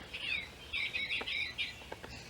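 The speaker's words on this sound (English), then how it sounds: "Let's see if we can hear this bluebird sing." An eastern bluebird sings in a Missouri forest, giving a series of soft, warbling chirps and short whistled phrases at moderate distance over quiet background.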